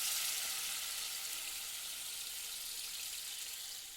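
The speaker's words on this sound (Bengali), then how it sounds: "গরম করে সেই জলটা ওর মধ্যে দিয়ে দিলাম।" Hot water is poured into a pan of well-fried spice masala for an egg and cauliflower dish, a steady broad hissing rush that slowly fades, with no voices.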